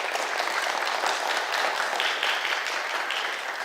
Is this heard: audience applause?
yes